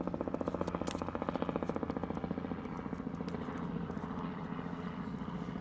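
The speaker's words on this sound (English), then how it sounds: "even when there's a helicopter" A helicopter passes overhead, its rotor beating in a fast, steady thudding pulse that stays loud and even throughout.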